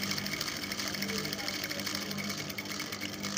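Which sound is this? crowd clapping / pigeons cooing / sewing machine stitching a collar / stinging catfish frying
sewing machine stitching a collar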